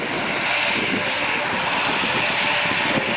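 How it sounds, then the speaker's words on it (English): An A-10 Thunderbolt II Warthog taxiing at an airshow, its engines giving a loud, steady, continuous roar and whine that stays close and unbroken throughout. "taxiing to the right now, joining our parade and setting up for takeoff for the Heritage Flight is the A-10 Thunderbolt II"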